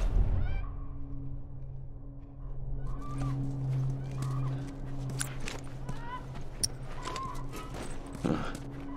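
Horse in The Last of Us video game, with faint clip-clop hooves and snorting under a steady low ambient hum and scattered clatter, quiet and distant.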